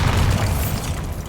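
A Bombarda blasting spell explodes in the Hogwarts Legacy video game as one loud, deep boom that fades into a low rumbling tail.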